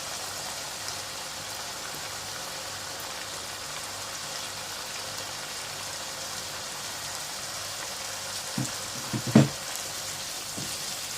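Tomatoes frying with garlic and ginger paste make a soft, steady sizzle throughout, with a few faint clinks of stirring near the end.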